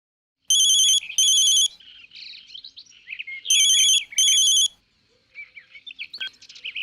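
Ringback tone of a telephone on an outgoing call: two close, loud double-burst electronic rings separated by a pause, with faint background chatter and rustling between and after them.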